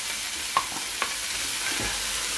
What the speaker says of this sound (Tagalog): piprituhin ko muna siya kunti